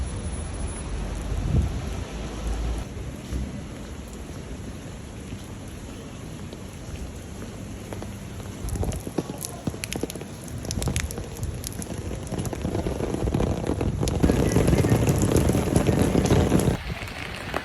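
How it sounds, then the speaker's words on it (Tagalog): Wind-driven rain falls outdoors in Jerusalem on a cold winter day, a continuous broadband rush with gusty swells that grows louder toward the end, heard close with no talking. "It's really nasty, the weather. Windy and rainy and cold."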